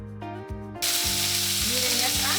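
Vegetables for a Mexican spicy salsa fry in a pan with a loud, steady sizzle that swells and stays dense throughout, while a few low thumps, likely stirring, punctuate it.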